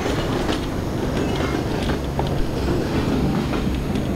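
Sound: moving train passing in video game Half-Life 2

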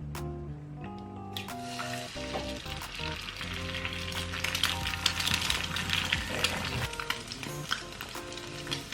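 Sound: frying eggs for kimchi fried rice

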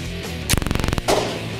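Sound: gunfire from movie guns at a private shooting range

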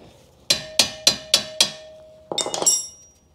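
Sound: big hammer striking a car ball joint to separate it

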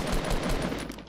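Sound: gunshot in the video game Fortnite

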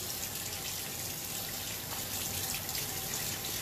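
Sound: running tap water rinsing hands

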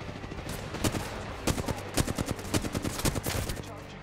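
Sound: shotgun fire in the video game Apex Legends

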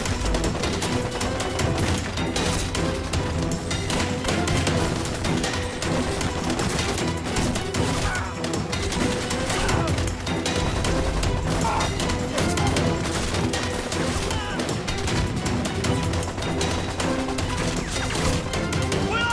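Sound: gunfire in a war film battle

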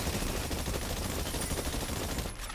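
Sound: gunfire at targets in a video game

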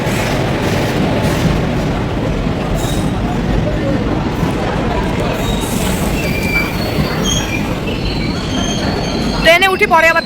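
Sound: passenger train arriving

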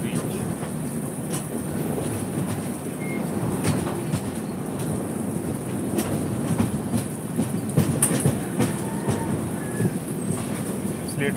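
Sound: train running slowly on rails

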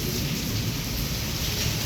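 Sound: thunderstorm with lightning, heavy rain and wind

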